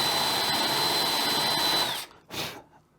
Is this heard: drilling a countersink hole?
yes